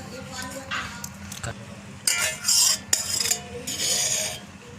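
Leftover kulfi mixture being transferred into a tiffin container in a home kitchen, with metal utensils clinking and scraping in bursts against steel, close and fairly loud, under a low background hum.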